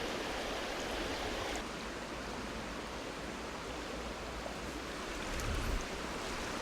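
Strong river current rushing past a huge boulder midstream in a winter river after a flood, a steady broadband roar of flowing water close by, continuous throughout with a slight swell near the end.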